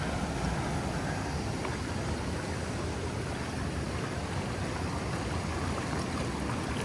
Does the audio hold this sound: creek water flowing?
yes